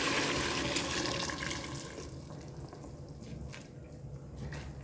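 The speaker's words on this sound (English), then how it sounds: "then we are going to add the broth of the oxtail" Oxtail broth pours steadily into a pot of browned ingredients, a continuous liquid splashing and gurgling that starts loud and eases slightly over about five seconds, with no talking.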